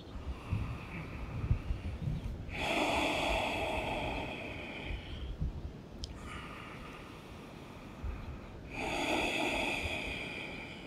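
Slow, deep breaths during a yoga hamstring stretch, with two long airy exhales standing out clearly over a steady background hiss, each lasting a couple of seconds and spaced several seconds apart.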